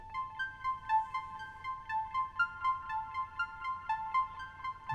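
Moog One synthesizer's third engine runs an armed sequencer pattern of bright, bell-like twinkly notes in a quick, steady rhythm, moderately quiet and alone without speech.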